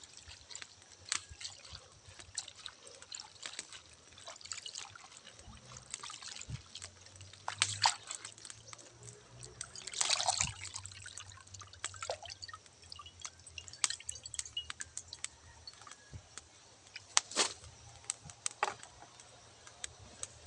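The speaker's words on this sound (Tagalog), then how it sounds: "Hugasan muna natin ang ating kangkong." Water spinach (kangkong) being rinsed in a basin of water, with soft drips, trickles and sloshing handled up close in a quiet rural kitchen, a few louder splashes standing out.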